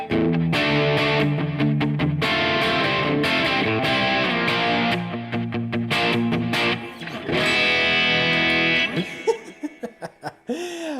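Electric guitar played through a NUX Mighty Lite BT MK2 amp with hall reverb, a run of loud, sustained chords and notes, then a few sparse plucked notes that ring out and decay into the reverb tail.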